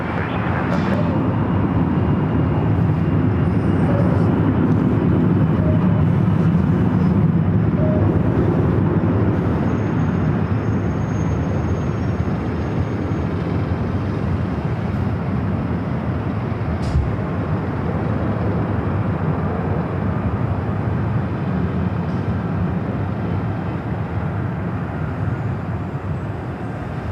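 An airliner taking off from a runway at LAX gives a loud, steady broadband jet roar that holds for the whole stretch, with faint voices underneath.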